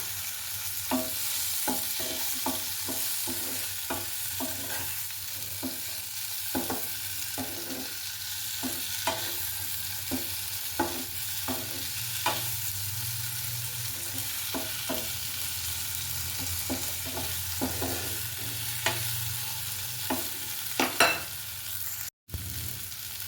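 Spice paste fries in a pan for a bean curry, a continuous close sizzle broken by a steady series of spatula stirs and scrapes against the pan, with a brief dropout near the end.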